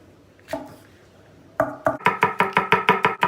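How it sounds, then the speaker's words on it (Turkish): A knife finely chops peppers on a cutting board, a couple of separate taps and then a quick, even run of about a dozen close, crisp strikes. "Şöyle bir kıyı biber aldık. E bunu elimizden geldiği kadar ne yapacağız? İnce doğrayacağız."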